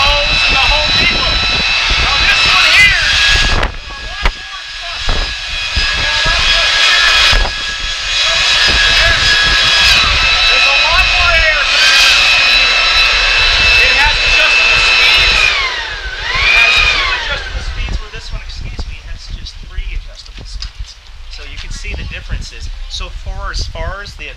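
A Black and Decker electric leaf blower runs loud and close with a steady high whine and rushing air. It dips briefly near the start and again partway through, then drops to a lower, uneven hum at the end.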